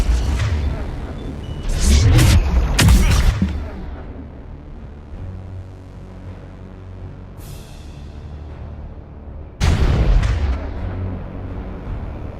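Explosions in the video game Mass Effect 3, arena level, boom loudly in two heavy bursts early on and another near the end, over a constant rumbling battle background with music.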